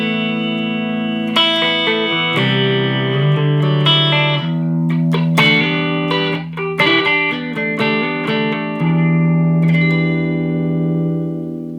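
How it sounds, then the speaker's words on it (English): Electric guitar on the middle pickup through an EVH 5150 Iconic 15W 1x10 tube combo on its clean channel, dry with no reverb: sustained chords and picked notes ringing full and loud, with a touch of breakup on harder strums. "This is just purely the amp on channel 1 clean."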